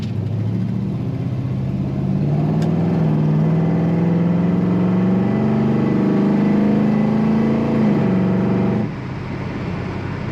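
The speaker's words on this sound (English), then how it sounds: "Nice throaty exhaust note." A 1972 Chevrolet Chevelle two-door hardtop's V8 exhaust rumbles loudly and steadily, rising in pitch as the engine revs, then drops abruptly near the end.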